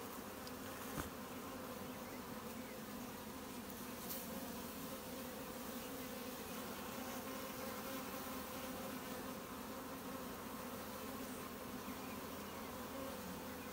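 Honey bees drone inside a small nuc hive in a soft, continuous hum, faint and close, with no voices over it.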